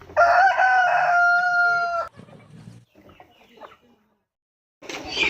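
Free-range local village chickens cluck and one crows loudly close by for about two seconds, followed by quieter scattered clucks and a short burst of clucking at the end.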